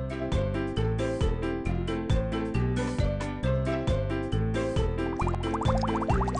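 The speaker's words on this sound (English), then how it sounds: "Run your finger along the clear tube to get water." A cartoonish gurgle of water filling a clear tube in the children's game Funny Food, rising near the end over loud, steady, bouncy game music with a regular beat.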